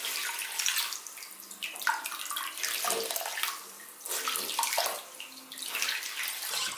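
Steady running water splashes and gurgles continuously onto a makeup sponge, close and fairly loud, with slight surges and drips throughout.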